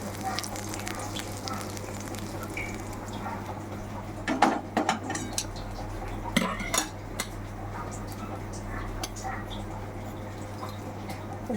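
Tempering sizzling in a frying pan, a steady close hiss of hot oil with sharp metallic clinks of a spoon against the pan in scattered bursts.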